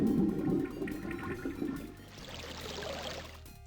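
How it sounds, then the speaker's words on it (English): A toilet flushing in the point-and-click adventure game Legend of Kyrandia 2: Hand of Fate, a short watery gush and swirling drain heard close and alone. "Okay, flush."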